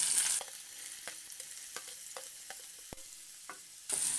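Sliced bitter gourd fries in coconut oil in a pan, producing a continuous close sizzle, with a louder burst at the start and end and scattered scraping clicks as it is stirred.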